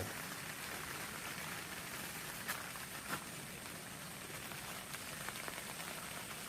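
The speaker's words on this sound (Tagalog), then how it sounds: "mamaya sana tumigil na yung ulan para makapagligpit na rin kami" Steady rain patters on a surface at a mountain campsite in Baguio, a soft, even hiss with occasional louder drops, fairly faint and continuous with no voices.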